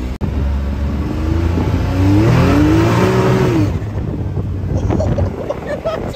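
A 2022 Can-Am X3 side-by-side engine revving and accelerating hard outdoors, loud and close, its pitch climbing then falling away, with wind buffeting the microphone.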